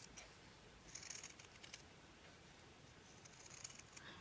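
Scissors snip along a dashed line to trim a piece of sewn fabric, giving faint, quiet clipping and rustling cuts spread across a few seconds in a still room.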